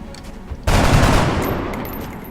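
Soldiers fire guns in the video game XCOM, an abrupt loud burst of automatic gunfire that rattles on for over a second and then fades into a decaying echo, with no speech over it.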